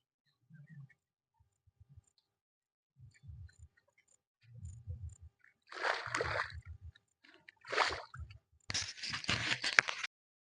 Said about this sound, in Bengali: এই যে দেখো বাসন ধুচ্ছে কি সুন্দর